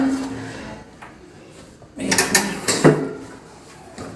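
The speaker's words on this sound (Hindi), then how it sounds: "गैलरी का दरवाज़ा बंद कर देती हूँ।" A gallery door at home is pulled shut, with a loud sliding, rattling scrape and a couple of knocks as it closes, heard up close after a quiet stretch of faint background sound.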